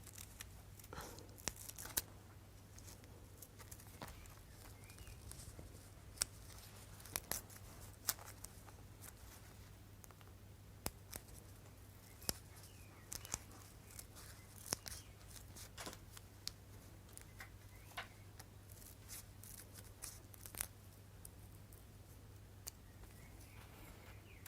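Small scissors snip felt away from goldwork embroidery in faint, scattered cuts under a steady low hum, with light rustling between the snips.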